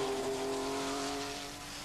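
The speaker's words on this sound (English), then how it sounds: "Roger Clark, and this year he is driving a Porsche course car with Ian Grindrod" Porsche rally course car on a 1984 Manx Rally stage, a steady engine drone with a sustained tonal whine holding through, easing slightly toward the end, no voices.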